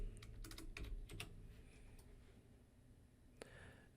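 Keys clatter on a computer keyboard in a few quick, faint bursts followed by a pause and a lone stroke, heard over a low background hiss.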